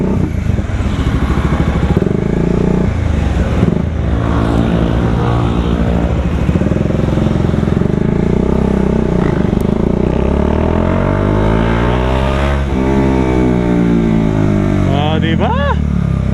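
A Bajaj Dominar 400 UG2 motorcycle rides through city traffic, its engine droning loudly and steadily with rising and falling revs as it accelerates and shifts, while a rider talks over the noise.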